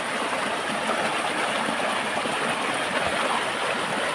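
A waterfall pours into a jungle stream beside a mountain trail, making a loud, continuous broadband rush of flowing water heard up close with no voices.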